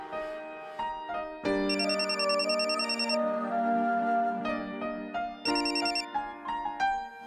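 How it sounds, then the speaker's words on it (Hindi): A telephone ringtone plays loud and close, a bright repeating electronic melody in bursts with brief pauses between phrases, heard alone without voices. "अरे शिव, वो होटल से फोन आया था।"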